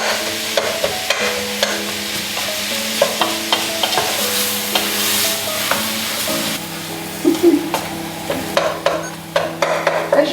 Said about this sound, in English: As you're going, just tap down through it to break up the mince